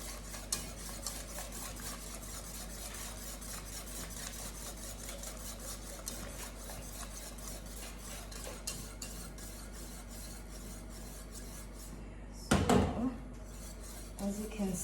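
A whisk clatters against a pot as grated cheese is worked into a mac and cheese sauce, a quick repetitive scraping and tapping throughout, ending with a louder clunk of the pot near the end.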